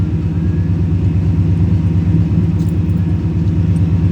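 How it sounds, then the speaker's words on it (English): A car engine idles steadily after a restart, a loud, close, even rumble with a slightly uneven pulsing beat, running alone without voices. "Idle's coming up. It's running a little strange"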